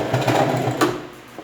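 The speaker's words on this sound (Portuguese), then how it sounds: "E agora eu vou seguir costurando" A sewing machine stitches fabric for a school pencil case, running in a steady close whir with a brief burst near the end, no voices over it.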